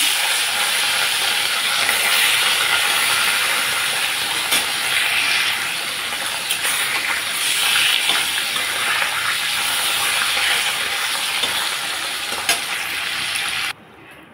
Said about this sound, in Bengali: এখন মাছগুলো ভেজে নিচ্ছি।